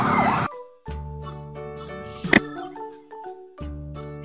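A Bangladesh police patrol car siren sounds in repeated steady wailing bursts, broken by short gaps and one sharp clatter midway, loud and close with no talking.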